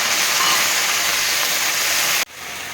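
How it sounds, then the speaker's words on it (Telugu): Tamarind curry frying in oil under a lid gives a loud, steady hiss that holds without break, then cuts off abruptly near the end and leaves a quieter hiss. "నూనెలో ఫ్రై అవుతుంది కదా"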